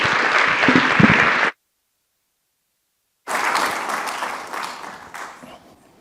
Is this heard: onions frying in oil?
no